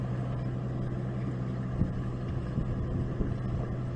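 Strong wind buffeting a microphone in a fire-damaged area near a closed road, a constant loud low rumble with occasional gusty thumps and no talking.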